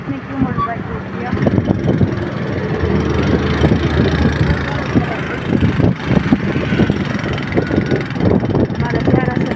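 A motorbike idles outdoors in a busy city park, chugging in a low, uneven rumble beneath the chatter of nearby voices.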